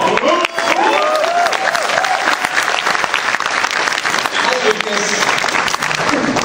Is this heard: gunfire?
no